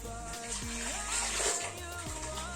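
Water poured into a blender jar while making egusi soup, a steady splashing trickle under background hum, running continuously for a couple of seconds.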